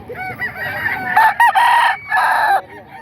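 A rooster crows loudly and close among gamefowl chickens at a crowded poultry market, its strident calls rising in two long bursts with clucking around them.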